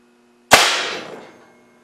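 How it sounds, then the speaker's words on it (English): An air cannon fires a slug through a rifled metal barrel in a single loud, close blast. A burst of rushing air follows and fades away over about a second. "This will be the first shot with the new barrel."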